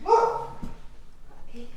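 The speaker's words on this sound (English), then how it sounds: "I think he's just barking at himself at this point." A dog barks once nearby at the start, followed by a softer yip and faint whimpering noises in a quiet room, seemingly barking at itself.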